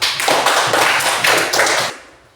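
A class claps hands together in a short round, loud bunched bursts of clapping falling in an uneven rhythm for about two seconds before cutting off.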